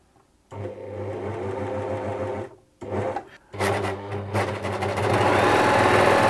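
Unthreaded Bernette 610D overlocker run at full speed: a close, loud rhythmic mechanical whir with fast needle clatter, a brief stop near the middle, then restarting and running steadily to the end.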